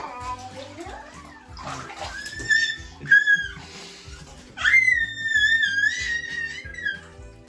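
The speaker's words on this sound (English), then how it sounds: "You splish splash, you were taking a bath?" Ducklings splash about in bathtub water while giving high, whistling peeps in bursts, with a small voice talking now and then.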